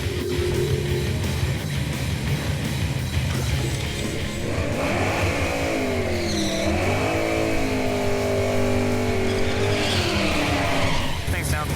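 A 1968 Chevy Camaro SS makes a drag strip pass, its V8 roaring and rising in pitch through the gears, loud and continuous over crowd and track noise, with a track announcer's voice heard.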